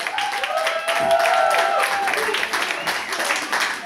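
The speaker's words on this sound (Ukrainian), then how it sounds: "А зараз я би хотів ще разочок ваші оплески" Concert audience applause in a Kyiv club during a band's solo show, steady and crowd-wide, with a voice speaking over it.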